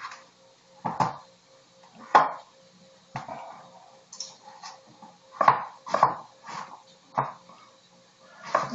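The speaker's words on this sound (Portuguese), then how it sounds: "Cortar a cebola." A knife chopping an onion, a sparse series of separate firm knocks on a board, some spaced about a second apart and others coming in quick pairs, close and clear without talk.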